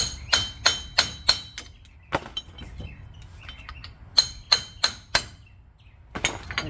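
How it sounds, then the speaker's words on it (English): Hammer blows strike a U-joint in the front differential of a second-generation Dodge Ram 4x4: two quick bursts of four or five sharp metallic clanks each, with scattered lighter taps and clinks between them, loud and close. "Basically, we're gonna hammer here."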